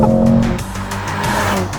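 A Mercedes-AMG GLC 43 launches from a race start, its engine roaring loud and close with a tonal drone and a hint of tire squeal across the short burst.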